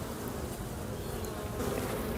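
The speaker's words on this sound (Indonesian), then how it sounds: "lebah-lebah madu inilah yang membantu untuk proses penyerbukan terhadap bunga-bunga tanaman" Honey bees buzz steadily in a home organic garden, a dense continuous drone of many insects close by, with no talk.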